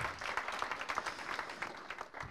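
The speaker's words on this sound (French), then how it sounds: "Nous pouvons également les applaudir." A conference audience applauds, producing dense, steady clapping from many hands at moderate distance with no voices over it.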